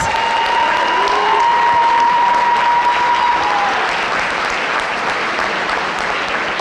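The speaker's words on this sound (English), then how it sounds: "Let's give them a big round of applause." A school Decision Day 2017 audience breaks into a big, sustained round of applause, dense clapping filling the room at full strength the whole way through, with a thin steady whistle-like tone briefly riding above it.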